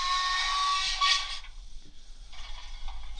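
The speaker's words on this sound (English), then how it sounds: "A whistle." Steam locomotive whistle from a Hornby TXS HM7000 sound chip in a Hornby BR Coronation model: one clear, shrill whistle blast of about a second and a half, followed by a softer hissing tail.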